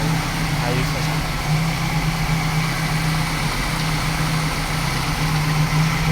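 An old jeep fitted with a 3AU engine idles in a steady low drone with a constant vibrating hum throughout, and voices talk quietly over it.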